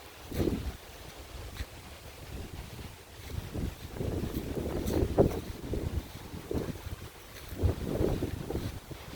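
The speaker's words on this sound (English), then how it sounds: "it is a very windy day" Gusty wind buffeting the microphone beside a 2020 SSR pit bike, low rumbling blasts that rise and fall in waves over several seconds.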